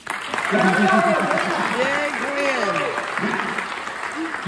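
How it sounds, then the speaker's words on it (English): Applause from an audience at a magic show, a steady clapping wash under lively voices, with a child's cheer and a performer talking over it. "you are going to get a huge monumental round of applause."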